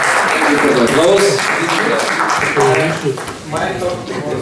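A festival crowd applauds after a Q&A on the film 'The Citizen'. Sustained clapping from many people runs throughout, swelling and dipping slightly, with a voice speaking over it.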